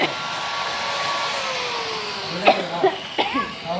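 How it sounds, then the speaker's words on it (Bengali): A person in a Bangladeshi village gives a few short, harsh coughs in quick succession against a steady, droning background hum. "কাশি বন্ধ হয় নাই"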